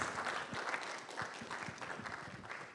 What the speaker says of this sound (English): Shall we give him a big, big round of applause?